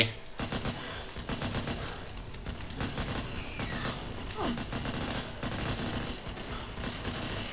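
Back 4 Blood zombie-shooter gameplay with dense, continuous automatic gunfire, rapid overlapping shots and mechanical clatter, loud and sustained throughout, with a player's voice talking under it.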